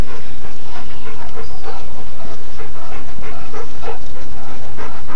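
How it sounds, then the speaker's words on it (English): Dogs at a farm pant loudly and close up in quick, rhythmic breaths, with no talking. "Mary Jane, do your dogs not have collars on, love?"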